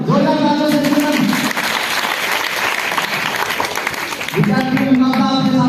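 Students in a quiz competition audience burst into loud, dense applause, with a voice speaking at the start and end over the clapping.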